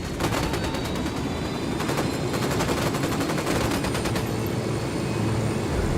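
Automatic gunfire in Ghost Recon Wildlands: rapid, sustained bursts of shots crackle through the whole stretch, loud and dense, with a steady backdrop of game ambience and no talk.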